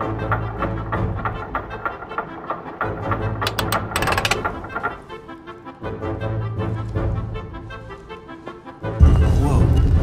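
A shield mechanism turns in the video game The Council, giving a steady ratcheting, gear-driven clicking with a brief burst of sharper clatter midway and a heavy low thump near the end.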